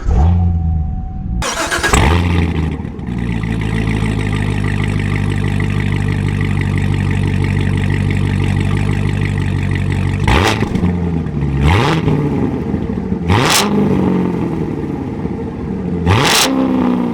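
A modified Corvette C7 Z06 with a manual gearbox fires up with a loud starter burst, then settles into a steady, throaty idle, punctuated by several sharp throttle blips that rise and fall near the microphone.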